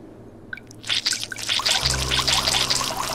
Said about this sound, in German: Mal wieder Wasser nachfüllen.